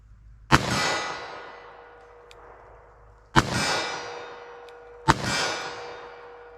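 Three .38 Special revolver rounds from a 4-inch barrel strike a steel target at uneven intervals, each a sharp loud clang with a long ringing metallic decay.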